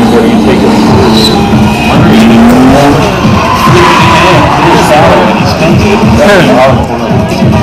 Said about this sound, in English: And another E30 BMW taking course.